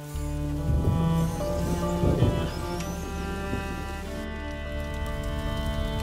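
Steady rain falling in the video game A Plague Tale: Innocence, a continuous hiss of drops under a low music bed, louder early on and then settling to an even wash.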